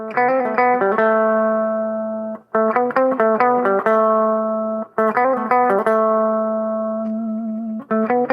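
An electric guitar with the neck pickup volume turned down plays sustained chords and short picked phrases with a mellow, somewhat muted tone, ringing out between bursts.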